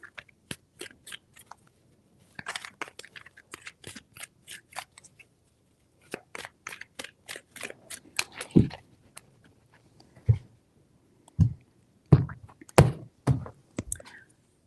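Tarot cards handled close up, a steady run of crisp flicks and snaps as they are shuffled and laid out, with a few louder slaps toward the end and brief gaps.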